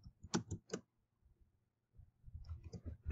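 Keys clack on a computer keyboard in two quick bursts of typing separated by a short pause, close and fairly quiet with no talking.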